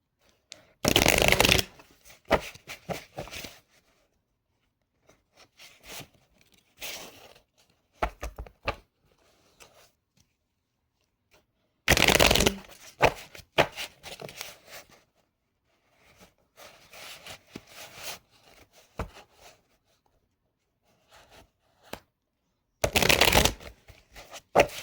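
A deck of tarot oracle cards is shuffled by hand in three separate bursts of quick, crisp riffling and flapping, close up, with quiet handling noises and pauses in between.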